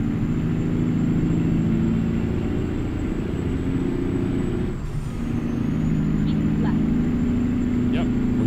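Truck engine with an 18-speed transmission in American Truck Simulator: a steady, low droning rumble that briefly dips midway as a gear changes, then resumes, with a voice talking over it.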